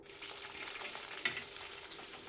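Black cumin and curry leaves roasting in oil for homemade herbal hair oil make a soft, continuous sizzle, with one sharp clink partway through.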